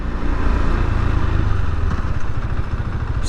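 A new motorcycle engine runs steadily through its break-in period, giving a close, loud, continuous low rumble with a mechanical clatter layered on top.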